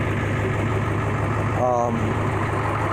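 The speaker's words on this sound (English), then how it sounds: "It sounds like it runs good." Steady low rumble of a 2000 Ford F-350 with the 7.3 diesel engine idling nearby, continuous and fairly loud, with a brief rattling flutter partway through.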